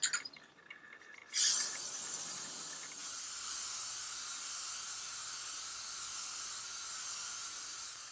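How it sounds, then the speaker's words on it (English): PlastiKote primer sprayed from an aerosol can onto a wooden chopping board: a brief hiss burst, a pause, then a long steady close hissing spray with no voices. "So we're going to start spraying."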